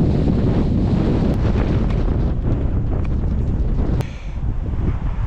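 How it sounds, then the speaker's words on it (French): Strong wind roars and buffets continuously on the road toward Almaty, Kazakhstan, loud and rushing with no voices present. "Il y a un sacré vent."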